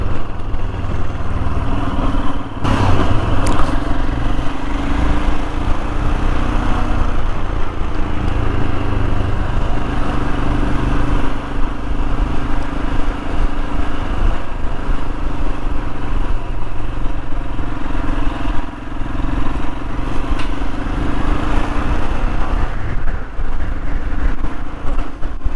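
Royal Enfield Himalayan motorcycle riding along country lanes toward North Wales, a steady loud engine drone with wind rush running continuously throughout, no talk over it.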